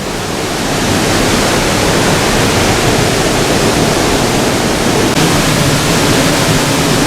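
A steady, powerful roar of rushing water from Bushkill Falls in Pennsylvania pours continuously without pause, loud and close, with no voices.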